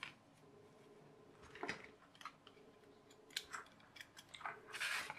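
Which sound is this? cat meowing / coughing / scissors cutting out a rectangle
scissors cutting out a rectangle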